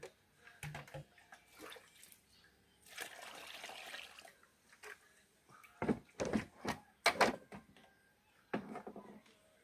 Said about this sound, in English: I try squeeze it two or three times, you know? We get all the milk out.